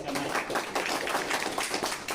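An audience claps at a seminar, a dense burst of many hands at close range, fairly loud and unbroken for the whole stretch.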